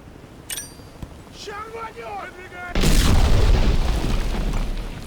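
A grenade blast in a video game lands as a sudden loud boom with a rumbling tail, preceded by quieter game sounds and a brief tonal chirp.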